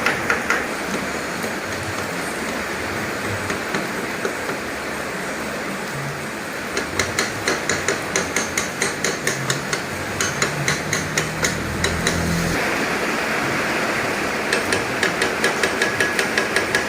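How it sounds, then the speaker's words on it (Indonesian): Hammering fits a seal into a Yamaha Mio scooter in a workshop, with runs of sharp, rapid metallic taps over a constant background hiss. "Itu lagi pemasangan seal pelekahnya ya."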